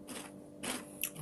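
Crunchy Indian packaged junk-food snack being bitten and chewed, giving a few brittle crackling crunches in quick close bursts.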